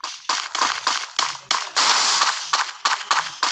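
A video game produces gunshots as a rapid string of about ten sharp, loud cracks and short bursts, some clustered and one longer blast, with no talking.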